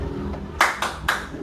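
A classroom group performs a rhythmic clapping pattern for an ice-breaking chant: three close, crisp claps, the first two quickly paired and the third following after a short gap.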